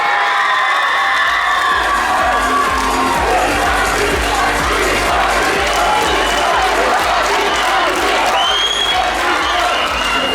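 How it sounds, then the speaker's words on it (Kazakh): At a talent contest gala concert, an audience loudly cheers, whoops and applauds for the history faculty, a dense, continuous wall of clapping and shouting voices from a large crowd, sustained at full volume throughout. "Тарих факультетін шапалақандай болады"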